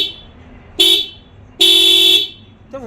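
A motorbike's horn honks when the starter is pressed instead of the engine turning over: a short blast, then a longer held blast, loud and close, with a quiet gap between them.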